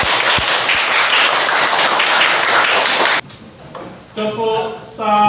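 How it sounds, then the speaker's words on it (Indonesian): Loud, dense audience applause fills the first three seconds at an Indonesian teachers' PPG Daljab 2021 session, then cuts off abruptly into quieter room sound with a voice starting up. "tepuk tangan"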